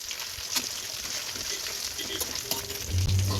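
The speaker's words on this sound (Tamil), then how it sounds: "ஸ்டவ்வை லோ ஃப்ளேமில் வச்சு நல்லா பொறிச்சு எடுத்துக்கலாம்" Chicken legs fry in oil over a low flame, a continuous close hiss and crackle with scattered pops, and a low rumbling thud near the end.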